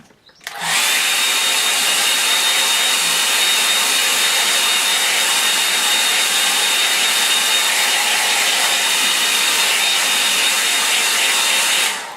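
A hair dryer blows steadily on a painting of a cob and thatch barn in Devon, a loud, continuous whirring roar that starts abruptly and runs unbroken for about eleven seconds.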